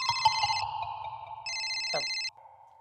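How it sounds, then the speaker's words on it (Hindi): An electronic telephone ring in a Hindi comedy household scene, two clear ringing bursts of warbling tone, fairly loud and near, with a voice speaking briefly alongside. "अभी किसका फोन है?"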